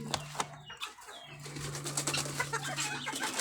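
Pigeons shuffle and flap inside a loft, with a quick burst of wingbeats near the start, then scratchy movement and soft rustling close by over a faint steady hum.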